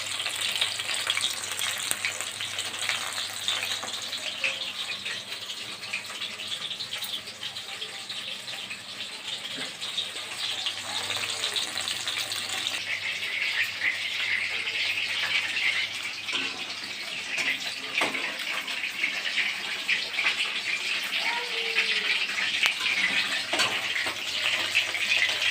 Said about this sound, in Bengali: বন্ধুরা এই যে চিকেনটা ভাজা ভাজা হচ্ছে, দেখো।